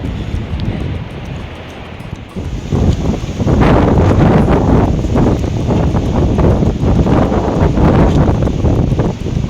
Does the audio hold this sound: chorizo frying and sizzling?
no